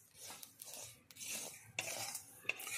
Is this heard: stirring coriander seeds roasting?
yes